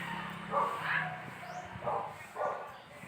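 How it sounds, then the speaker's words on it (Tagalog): Dogs bark in a Philippine village street, with several separate yapping barks spread across the clip over steady outdoor background noise, moderately close. "maraming mga tumatahol. May tumatahol."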